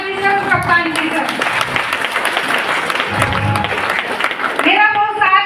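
Audience clapping steadily through a business meeting, a dense roll of claps that carries on while someone speaks over it at the start and end.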